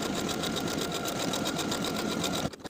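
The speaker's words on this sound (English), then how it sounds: "Now I'll sew my buttonholes in place." A sewing machine stitches buttonholes along the placket of a summer button-up shirt, its needle chattering in a fast steady rhythm close by before stopping abruptly near the end.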